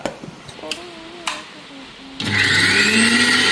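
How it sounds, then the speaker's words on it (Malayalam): A mixer grinder jar whirs into a loud, steady grind of chilli, ginger, garlic, shallots, turmeric and salt for a curry paste, preceded by a few clicks and taps as the jar is set. "മുളക്, ഇഞ്ചി, വെളുത്തുള്ളി, കൊച്ചുള്ളി, മഞ്ഞൾപ്പൊടി, ആവശ്യത്തിന് ഉപ്പ് എന്നിവയിട്ട് ജാറിലിട്ട് അരച്ചെടുക്കുക."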